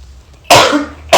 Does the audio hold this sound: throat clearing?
yes